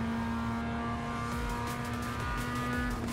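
A racing-sim car engine drones steadily at a constant pitch as the front tires are warmed up, holding a sustained hum with faint intermittent tire scrubbing toward the end.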